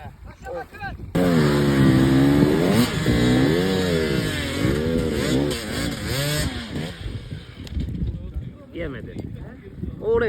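An enduro motorcycle engine on a rocky slope in a hard enduro climb, revving in repeated surges and bogging down, loud and close, with people talking and shouting over it.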